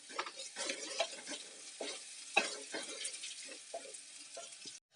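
Crushed garlic and curry leaves frying in oil in a pan, a soft sizzle broken by spatula stirs and light scrapes at uneven intervals, quiet and close.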